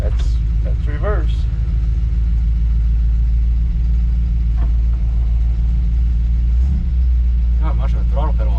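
A burnt rat rod car's engine idles and rumbles with a deep, constant low drone close by while it backs out, and people talk over it.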